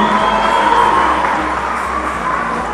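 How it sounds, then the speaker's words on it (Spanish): A crowd at the Zoquiapan coffee fair queen coronation cheers and shouts loudly, a steady roar of voices with whoops, clapping not clearly distinct. "El aplauso fuerte para la reina de la Feria del Café Soquiapan 2017."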